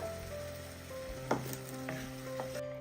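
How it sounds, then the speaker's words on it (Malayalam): Tamarind water poured into a hot pan crackles into a sizzle with a sharp burst and a few stirring clinks over a steady background hum, close and quiet. "ഇനി നമുക്ക് ഇതിലേക്ക് പുളിവെള്ളം ഒഴിച്ചു കൊടുക്കാം"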